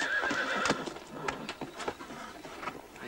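A horse whinnies loudly at the start, followed by a run of irregular hoof clops on hard ground.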